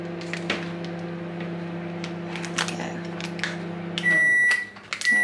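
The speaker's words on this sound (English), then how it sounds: "So my microwave's pinging nicely." A steady microwave hum runs under faint clicks and talk, then a series of loud, high electronic beeps sounds near the end.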